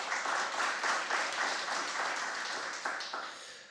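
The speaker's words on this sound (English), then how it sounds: "we can give ourselves a round of applause for that" Seminar audience applauding steadily at a higher-education teaching and learning event, a dense even wash of many hands that holds and then begins to thin toward the end.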